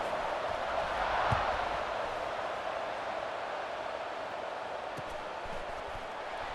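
A stadium crowd in the College Football 26 video game buzzes with a broad, steady roar during a Penn State versus Maryland game, sustained and moderately loud with a few faint thuds.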